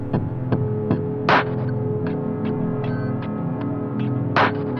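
Slowed, time-stretched song outro warped in FL Studio, with a droning sustained low hum and evenly spaced soft thuds pulsing throughout, plus two brighter swells, playing alone without voices.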